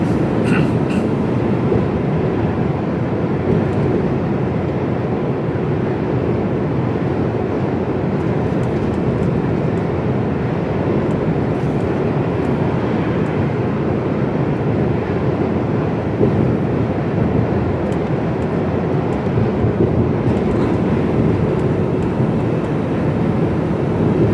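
An empty Mercedes Actros HGV truck drives with a steady, heavy cab rumble and loose rattling throughout, loud and continuous with no talk.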